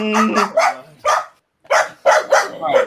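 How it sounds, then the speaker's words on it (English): A dog barks loudly and close in a quick series of sharp barks, pausing briefly before a second burst of rapid barking. "you gotta turn off the dog alarm"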